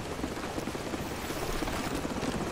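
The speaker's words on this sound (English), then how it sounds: "The helicopter's back." Steady rotor drone of a helicopter in the video game Call of Duty 4, a dense continuous whooshing rumble with faint rhythmic chopping, fairly close and unbroken.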